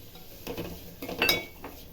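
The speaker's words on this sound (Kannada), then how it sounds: "ಗೋಡಂಬಿ ದ್ರಾಕ್ಷಿ ಹುರಿದಾಗಿದೆ ಅದ್ರ ಜೊತೆಗೆ ರವೆ ಹಾಕ್ಬಿಟ್ಟು ಹುರ್ಕೊತೀನಿ" Semolina roasted with cashews and raisins in ghee in a pan for gasagase payasa, stirred by hand: light metallic clinks and scrapes of a spoon against the pan in a quick, uneven rhythm, close and moderately quiet.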